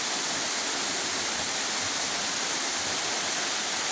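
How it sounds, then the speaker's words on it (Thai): A mountain waterfall pouring into a pool, heard as a continuous, broad, even rush of falling water, loud and unbroken with no voices. "พามาดูน้ำตกครับ บนเขาครับ"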